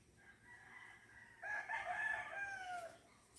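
A rooster crows once at moderate distance, a drawn-out call rising out of a quiet background with no talking.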